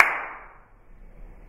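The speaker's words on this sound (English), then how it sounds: "Think of how long you hear the clap after." A single hand clap in a recording room with a short reverb, a sharp crack at the start whose reflections fade out over about half a second.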